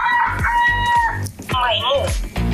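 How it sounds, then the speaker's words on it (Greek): Rooster crowing from a children's animal-sounds learning toy, a short electronic cock-a-doodle-doo call played loud and close over a bright musical jingle. "Κόκορας."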